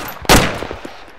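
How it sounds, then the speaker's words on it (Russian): A single loud gunshot crack in the military shooter ArmA 2, sharp and close, followed by a brief decaying echo. "По мне стреляют."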